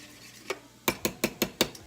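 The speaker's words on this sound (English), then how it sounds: "So I'm gonna give that a good stir" A spoon knocks against a bowl while stirring a flatbread mixture: one light tap, then five sharp, evenly spaced clinks in quick rhythm, close and clear over a quiet kitchen background.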